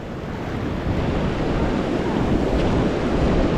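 Ocean waves surge and rush against a rocky shoreline fishing spot, a broad continuous roar of surf with wind noise, close and fairly loud, building slightly over the few seconds.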